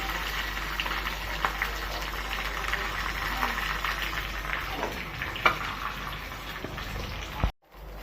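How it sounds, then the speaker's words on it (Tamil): Tomato dosa batter spreading across a hot oiled pan on low flame, a steady close sizzle and bubbling hiss with faint scraping touches, continuing for several seconds before cutting off abruptly near the end. "தக்காளி தோசை ஊற்றுறாங்க"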